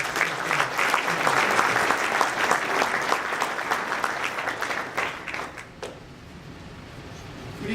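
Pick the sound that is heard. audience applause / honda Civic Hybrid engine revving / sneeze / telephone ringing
audience applause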